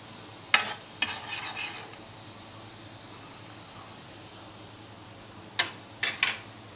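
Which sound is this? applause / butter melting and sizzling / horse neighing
butter melting and sizzling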